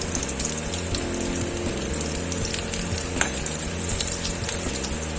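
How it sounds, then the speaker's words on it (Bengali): Steady oil sizzle of vegetarian potol dhoka pieces being fried in a pan until reddish, with occasional stirring clinks and pops over a continuous bubbling hiss. "ভালো করে একটু লাল করে ভেজে নিই।"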